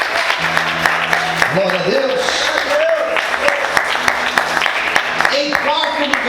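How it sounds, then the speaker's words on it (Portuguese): A church congregation applauds with a steady patter of many hands while a voice speaks over it, and a sustained instrumental or organ tone runs underneath. "Você pode aplaudir a Ele"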